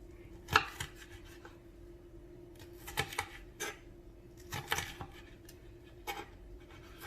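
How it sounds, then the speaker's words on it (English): A dull kitchen knife slices through a tough-skinned pepper while prepping for tikka masala, giving a handful of separate, crisp cuts spaced a second or two apart against a quiet room. "Cutting through a pepper is a really good test of if your knife needs sharpened because pepper skin is tough"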